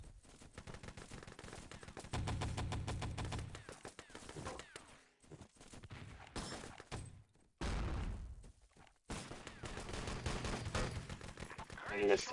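Machine gun fire from the video game Enemy Territory in a competitive match, rapid bursts of automatic shots with gaps between them, loud and close, under faint commentary.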